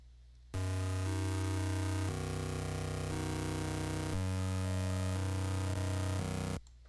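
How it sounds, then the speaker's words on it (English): Harsh, buzzy electronic bytebeat tones made in FL Studio Edison hold steady pitches and shift between a few sustained notes, a crunchy low-fi 8-bit chiptune drone playing loudly without voices. "it gives you that crunchy 8-bit sound like this"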